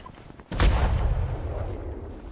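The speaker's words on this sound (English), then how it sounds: "And why is only one cannon shooting?" Ship cannon in the ATLAS video game fires a single loud booming shot near the start, with a long rumbling decay trailing off afterward.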